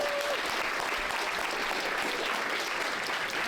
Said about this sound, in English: Give a huge round of applause for yourself